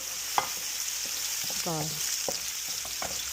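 Minced garlic sizzles in hot oil in a pan as the first step of a blue crab curry, a steady bright hiss with a few ticks and a short ringing clink, with no voices.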